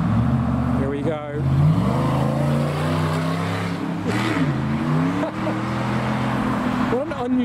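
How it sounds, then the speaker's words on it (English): A car accelerates with an unusual gear change at a drive-through car show, its engine note rising, dipping at the shift and climbing again, loud and close, with voices talking over it. "What an unusual gear change."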